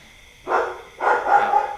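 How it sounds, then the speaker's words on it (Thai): Two loud, close dog barks, the second drawn out longer, with no one speaking. "เห่าใหญ่เลยครับทีนี้"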